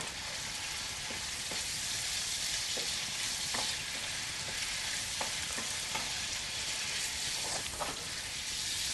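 Chicken pieces fry in curry paste for butter chicken, a steady dense sizzle with faint stirring taps now and then, close and continuous throughout without any voices.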